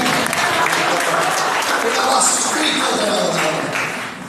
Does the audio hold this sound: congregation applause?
yes